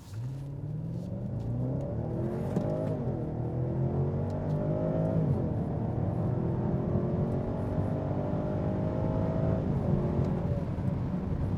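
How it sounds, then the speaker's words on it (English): A 2016 BMW 750i in sport mode accelerates hard, its engine note climbing steadily and loudly through the gears in a continuous close-up roar with no talking. "Let's see how much of that we're going to use on a hard acceleration."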